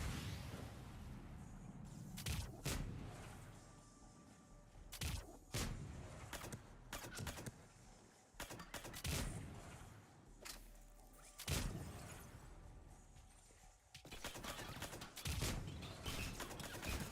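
Gunfire and grenade blasts in a Mass Effect 3 firefight, with repeated sharp bursts and heavy thumps spread irregularly across the whole stretch, loud and close, with no talking.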